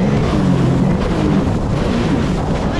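A jet ski engine runs in a loud, steady drone with rough wind and water noise over it, heard close and without a break throughout.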